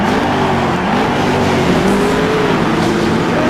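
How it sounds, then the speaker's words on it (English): NASCAR race car engines roar together at the start of a big season race, a loud, dense, continuous rumble with a rising whining engine tone and no pauses. "Gentlemen, start your engines!"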